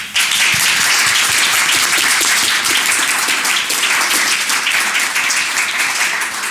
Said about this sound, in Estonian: härrased on ära teeninud aplausi